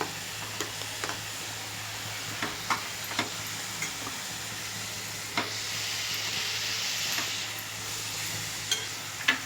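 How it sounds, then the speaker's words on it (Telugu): Chopped tomato sizzles steadily in a pan of catering-style stuffed brinjal curry, a constant close hiss broken by scattered soft clicks and pops, with no talking. "ఇప్పుడు ఇందులోనే టమాటా కూడా వేసేస్తున్నాను నేను, చిన్నది కోసుకున్నాను."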